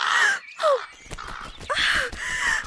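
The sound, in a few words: crow cawing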